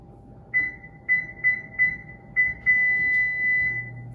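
An oven control panel gives a string of short, clear electronic beeps, about six in quick succession, as the temperature is set, followed by a longer sustained tone, close and without speech.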